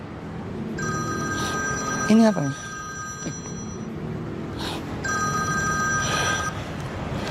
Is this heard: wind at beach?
no